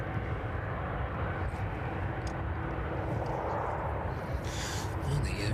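A Ryanair airliner comes in to land at East Midlands Airport in the evening, producing a continuous engine roar of even loudness. A few faint clicks show up near the end, and there is no clear talk.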